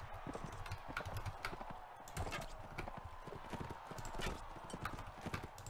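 Horse hooves gallop in a video game battle, a steady fast clip-clop rolling continuously under a busy, dense background of clashing game sounds, fairly faint overall and with no speech.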